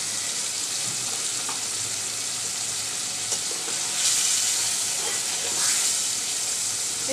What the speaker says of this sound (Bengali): এই তো মাছটা আমি 2 মিনিট একটু তেল মরিচের মধ্যে কষিয়ে নিলাম